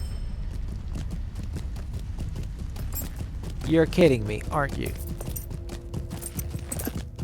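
Hoofbeats of a ridden goat mount in a video game clatter in a steady clip-clop beneath a voice, close and moderately loud, with brief game voices mixed in.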